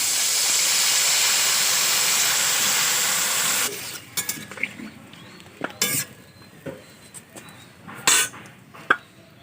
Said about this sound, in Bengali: তরকারির ঝোলটা ফুটছে